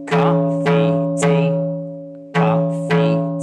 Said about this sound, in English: Number one sounds like this in a sound shape.